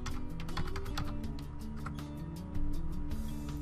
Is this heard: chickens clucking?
no